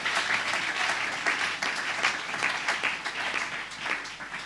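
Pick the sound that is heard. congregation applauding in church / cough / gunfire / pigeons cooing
congregation applauding in church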